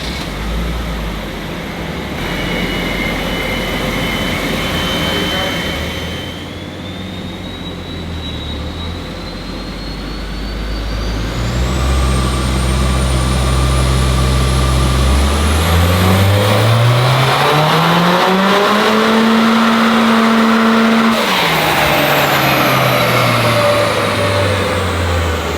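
Nissan S15 with a swapped Toyota 3SG four-cylinder revving hard on a dyno power run, engine pitch climbing steadily through the gears to a loud peak, then cutting off and winding back down, with no talking.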